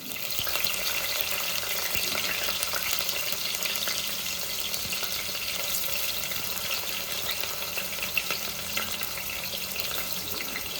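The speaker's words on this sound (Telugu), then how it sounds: "ఆయిల్లో హీట్ అయిన తర్వాత ఆనియన్ పచ్చిమిర్చి టమాటాస్ కూడా వేసుకున్నాను" Chopped onion, green chilli and tomatoes fry in hot oil, giving a continuous, even sizzle with a crackling hiss that holds steady from start to finish, close and moderately loud with no talking.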